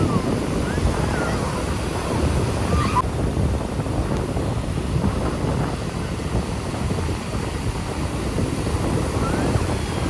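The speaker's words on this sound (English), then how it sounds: "Some beach sound for you." Ocean surf rolling onto the wide sandbar beach at Morjim, Goa, a steady loud wash of waves with wind buffeting the microphone throughout, no voices.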